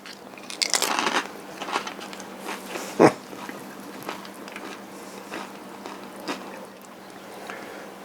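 A loud, sharp crunch of biting into a crisp Tostitos Scoops tortilla chip topped with crab cake, followed by softer crackly chewing crunches at close range with no talking.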